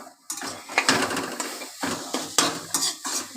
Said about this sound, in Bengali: এবার আমি ভালো করে নাড়াচাড়া করে নিয়েছি